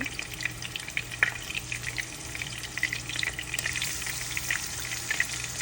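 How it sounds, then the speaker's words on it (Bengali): Shrimp fry on a hot tawa with a dense, continuous sizzle and crackle, with scattered louder pops and faint stirring scrapes, close and steady, no speech. "এখন আমি আস্তে আস্তে সবগুলো চিংড়ি আস্তে আস্তে করে দিলাম"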